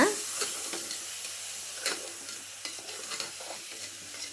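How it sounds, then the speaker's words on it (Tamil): Ground masala paste sautés in hot oil for a soya and potato curry, giving a steady sizzle broken by occasional scrapes and stirs of a spoon against the pan, close and without voices. "இப்போது அரைச்சி வச்ச பேஸ்ட்டு நம்ம வந்து ஊற்றிக்கலாம். இதையுமே நல்லா வந்து எண்ணெயில் வணக்கி விட்டுறணுங்க."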